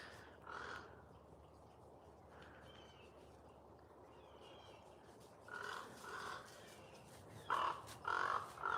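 A crow caws from a tree at a ranch, giving a single harsh call early on and then several hoarse caws in pairs toward the end, fairly close against a quiet outdoor background.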